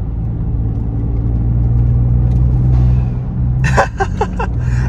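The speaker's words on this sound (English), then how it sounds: "Hear that little turbo?" The turbocharged engine of a 2019 Ford Raptor pickup, heard from inside the cab, gives off a steady low rumble and whir that builds gently while driving. Brief higher clicks come near the end.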